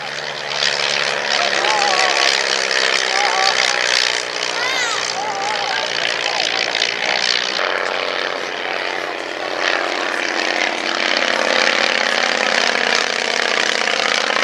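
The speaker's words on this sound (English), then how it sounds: "Really interesting machine, the Spartan Executive." A vintage Spartan Executive propeller aircraft races at a handicap-race airshow, its engine droning loud and steady throughout, with a voice commentating over it.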